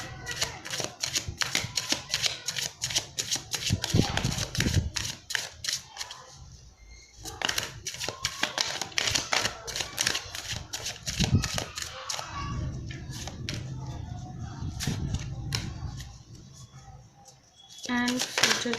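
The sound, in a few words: shuffling and drawing tarot cards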